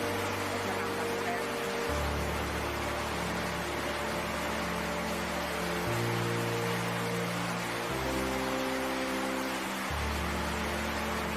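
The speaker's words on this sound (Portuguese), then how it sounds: "Nesta cena, veremos como a chuva fica cada vez mais forte" Heavy rain with a steady broadband hiss that grows more intense in a natural-disaster storm, constant and loud, with low rumbling shifts underneath and no voices.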